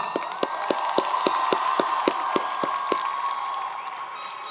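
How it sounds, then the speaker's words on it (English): A crowd applauds at a community college commencement ceremony, a sustained wash of clapping with some cheering and a few sharp, rhythmic individual claps standing out, held at a steady level before easing slightly. "Yeah, round of applause."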